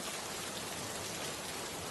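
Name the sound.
heavy rain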